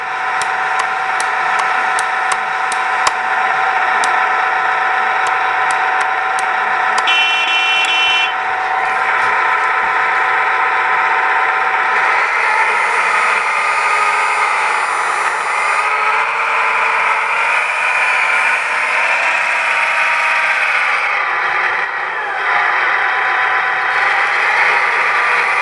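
A Cat 966G wheel loader with full mods runs its engine and hydraulic pumps, a loud, sustained mechanical whine and hum held steady for the whole stretch, with faint shifts in pitch and no talk.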